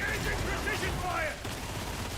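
Rapid video game gunfire crackles in the background of a team firefight, muffled and fairly faint beneath players shouting callouts.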